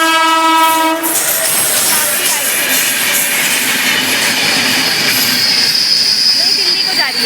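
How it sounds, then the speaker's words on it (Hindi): The Kalka–New Delhi Shatabdi express roars into platform number 1 at full speed with a loud horn blast at the start, then continuous rumbling, clattering wheels and squealing steel close by. "ये ट्रेन आती हुई अपनी पूरी रफ्तार में प्लेटफॉर्म नंबर 1 पे"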